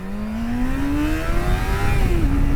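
A Yamaha FZ6 motorcycle pulls hard in first gear, its engine note climbing steadily as it revs up, loud and close with no talking over it.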